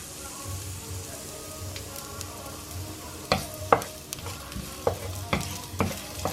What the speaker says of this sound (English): So we're just frying up some oil.